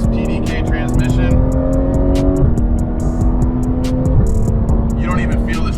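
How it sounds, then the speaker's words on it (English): Porsche 911 GT3 with PDK transmission accelerates from inside the cabin, a loud, steady engine drone whose pitch climbs and drops smoothly through quick shifts, with a person talking over it. "Like even accelerating with this PDK transmission,"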